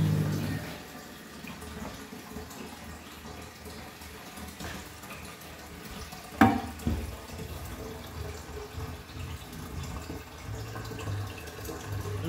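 Water runs steadily into a low-level Shires Symphony toilet cistern from around the 2000s as it refills after a 6-litre flush, a continuous close hiss with a brief clunk partway through.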